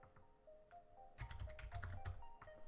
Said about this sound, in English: Let me try typing this.